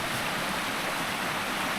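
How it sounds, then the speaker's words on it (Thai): Rain-swollen stream rushing strongly and continuously, a dense broadband roar of fast-flowing water close by, with no voices. "ได้ยินเสียงน้ำไหม เสียงน้ำรุนแรงมาก"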